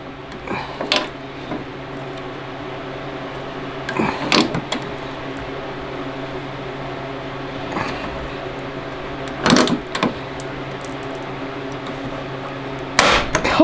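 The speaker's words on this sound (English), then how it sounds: "Alright, so now we have our manual rivet little gun tool thingy. Gotta use the muscles." A manual hand rivet gun setting rivets on an ITEK rear bumper for a 2020 Polaris PRO RMK snowmobile, heard as a few sharp, separate snaps spaced several seconds apart over a quiet background.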